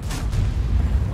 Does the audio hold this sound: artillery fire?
yes